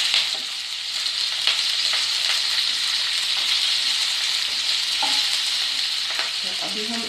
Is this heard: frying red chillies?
yes